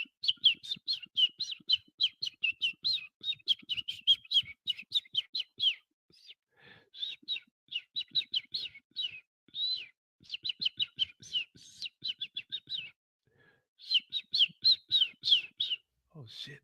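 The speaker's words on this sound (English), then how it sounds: "The birds start chirping." Bright songbird chirps and tweets repeat in quick, dense bursts near and clear, with short pauses between phrases, as skies clear near land.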